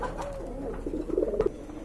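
A pair of pigeons kept for sale, cooing in soft, warbling bursts that swell and repeat near the end, close by against faint background noise.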